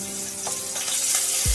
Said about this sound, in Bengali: দিয়ে দিচ্ছি ওই তেলের মধ্যে পেঁয়াজ, কেটে রাখা পেঁয়াজগুলো আমি এর মধ্যে দিয়ে দিলাম।